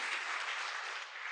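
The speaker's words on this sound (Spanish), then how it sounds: "tu hermano que acaba de aplaudir a tu costado así todo eufórico" A church congregation claps together in a steady, dense burst of applause, fairly soft and briefly dipping near the end, with no talking.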